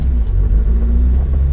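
A modified 1966 Alfa Romeo Giulia GT rolls over white gravel in Florida, with a loud, steady low engine rumble close by and a continuous crunchy road roar.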